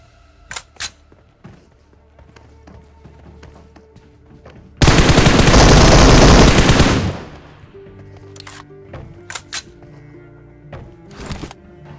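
Automatic gunfire from a firefight in PUBG Mobile, a duo-versus-duo match on a phone: a sustained loud burst of about two seconds, with scattered sharp shots and clicks from the game before and after.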